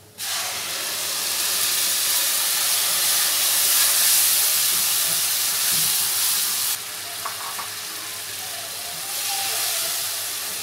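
Tomato paste for pizza sauce sizzles steadily and loudly in a hot pan, a dense continuous hiss that eases slightly partway through and then carries on.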